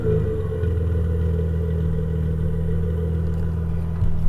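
A Nissan R31 Skyline with an RB30 engine idling, a steady low rumbling burble that holds even and close, then swells briefly at the very end, with no talk over it.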